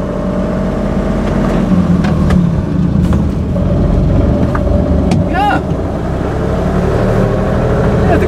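An old Mercedes-Benz Unimog truck drives under load, its engine droning loudly with wind buffeting and a shift as it goes up toward third gear, while people talk over the noise.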